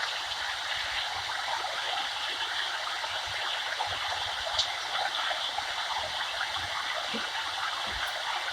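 Continuous rushing water from a nearby waterfall in wild nature, a steady broadband wash, with no voices over it.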